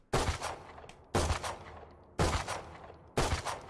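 Four evenly spaced burst shots from a gun in the video game Valorant, each a sharp loud crack with a quick decaying tail, alone without talk.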